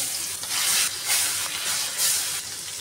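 The remaining pangas fish pieces drop into hot oil and fry, giving a dense, close hiss and sizzle that rises in a few soft surges.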